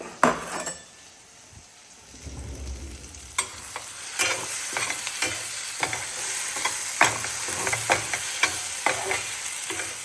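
Ground paste stirred with butter in a frying pan, a soft sizzle underneath repeated scraping and clinking of a utensil against the metal pan, close and fairly quiet with no speech.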